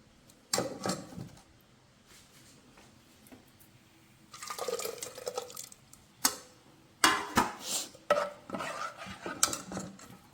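Ground masala paste is poured from a vessel into a curry pot, heard as wet pouring and scraping bursts and clinks of metal utensils, separated by quiet pauses, close by.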